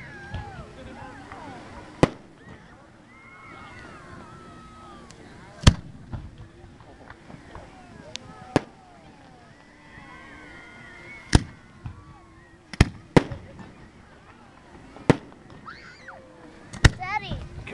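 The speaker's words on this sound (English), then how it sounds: "Let's watch the fireworks." Fireworks at Port Stanley burst overhead in sharp, loud bangs spaced a second or two apart, with crackling and murmuring crowd voices underneath and people talking nearby.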